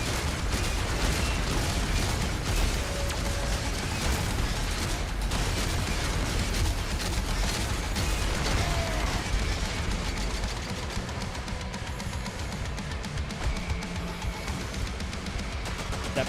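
Grenade launcher blasts in DOOM: The Dark Ages come as a dense, loud barrage of booming explosions and mechanical clatter that continues without a break, with no talking over it.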